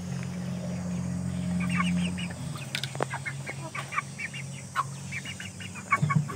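Saigon and Indio Gigante chickens, one rooster with three hens, cluck and chatter in short bursts nearby, with a low steady hum running under the first half.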